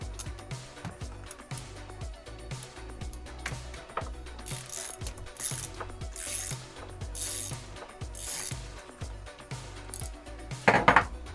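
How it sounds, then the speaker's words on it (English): A wrench tightens a battery terminal connection nearby, with repeated metallic clicks and ratcheting clanks in an uneven rhythm and a brief louder rattle near the end, with no voices. "grab a wrench, give it a little tightening"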